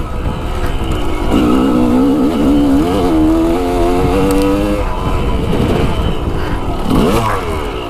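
An off-road vehicle's engine revs hard as it pulls a wheelie up a steep climb. The motor is loud and close, with the pitch rising and wavering throughout.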